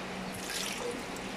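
Lime water pours into a cooking pan for lemongrass chicken, making a soft, faint trickle and splash that stays fairly steady for a moment, with no voices.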